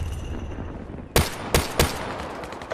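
Three sharp, loud MX Garand rifle shots crack in quick succession in Black Ops 3 multiplayer, spaced under half a second apart over a low hum of game ambience.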